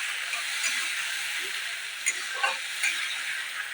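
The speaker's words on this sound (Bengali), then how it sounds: "টমেটো পেস্টটা দিয়ে দেব। দিয়ে ভালো করে নাড়িয়ে দেব।" Tomato paste being stirred as it fries in a pan while cooking a fish curry, with a soft continuous sizzle and a few faint scraping knocks from the spoon.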